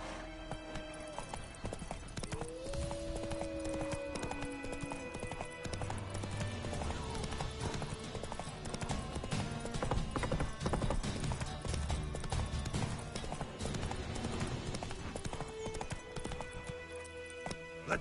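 Roach, a horse in The Witcher 3, galloping with steady hoof clip-clops under a loud continuous music score, the footfalls repeating throughout.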